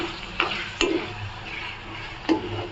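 Onion, ginger-garlic paste and tomato fry with a steady sizzle in a pan while a spoon scrapes and stirs through them in a few distinct strokes, close and fairly loud.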